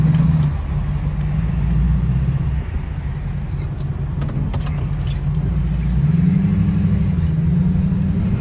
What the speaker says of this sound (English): Sounds really nice with the cold air intake on the exhaust.